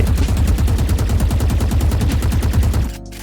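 Rapid automatic gunfire from the video game Valorant, a steady loud burst of shots for about three seconds before cutting off abruptly.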